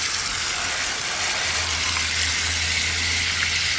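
Water rinsing acid-stripped Mercedes W109/108 front brake calipers, a steady hissing spray of water running continuously with a low hum underneath, no talk.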